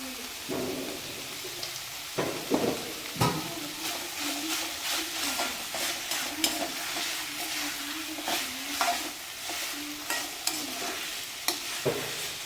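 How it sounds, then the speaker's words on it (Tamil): Chapathi noodles with masala sautéed in a pan, steady sizzling frying with repeated scraping stir strokes throughout, fairly close and moderate in volume, no talking. "நல்லா சுருள வதங்கணும்"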